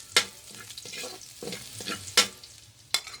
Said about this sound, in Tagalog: sinunod ko na nga igisa ang bawang